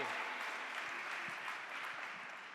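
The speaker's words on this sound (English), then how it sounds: "Big applause for Blai" An audience at a startup pitch competition claps steadily after a pitch, a dense but quiet patter of many hands that fades slightly toward the end.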